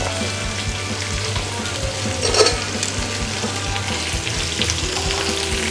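Potato, beans and carrot sizzle steadily in a hot pan for veg biryani, a close, even frying hiss with a soft clink of stirring partway through.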